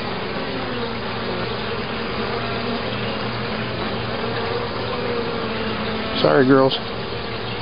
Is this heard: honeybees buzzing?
yes